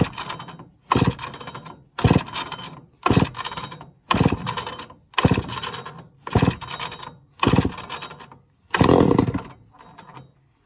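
A Homelite XL-400 chainsaw bursts to life about nine times in a row, each loud, close rasping surge lasting under a second before dropping off, with brief near-silent gaps between them.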